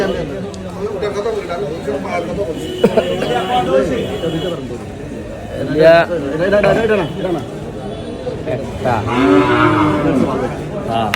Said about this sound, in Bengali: এটা গরু